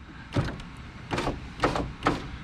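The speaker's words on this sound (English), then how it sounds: "open the door, pull the bottom back, roll the window down" A car door opening followed by a power window rolling down during hand-cut window tint work, heard as several separate, fairly loud mechanical bursts with no talk.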